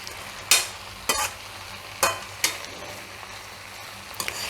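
Vegetables and Maggi noodles stirred in a hot pan, with a steady sizzle and several sharp spatula scrapes spaced about a second apart.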